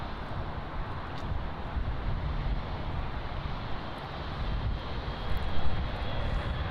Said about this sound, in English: So just leaving the freight apron now is the Turkish Airlines freight Boeing 777-200